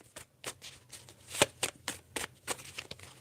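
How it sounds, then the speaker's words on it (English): Tarot cards shuffled by hand, a rapid series of crisp riffling flutters and soft slaps about a dozen times in quick irregular rhythm, close and clear with no talking. "I'm going to pull the last few set of cards."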